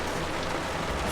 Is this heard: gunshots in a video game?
no